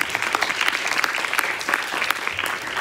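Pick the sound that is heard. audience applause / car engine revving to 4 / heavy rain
audience applause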